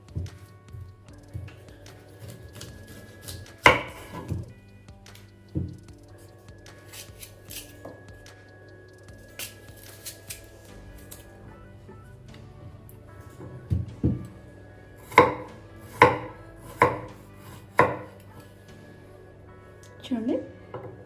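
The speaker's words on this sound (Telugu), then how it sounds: "ఈ 2 యాపిల్స్ని చిన్న ముక్కలుగా కట్ చేసుకోవాలి." Green apples being cut into small pieces on a board, giving a few soft knife taps early on and then a quick run of five sharp chops near the end, with a low background hum throughout.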